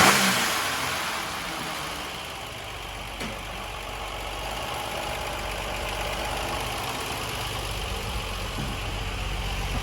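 A Ford Granada Mk1 3.0 V6 Ghia engine runs steadily nearby while its carburettor is adjusted, a continuous low rumbling drone with a faint roughness and a slight rise in revs toward the end.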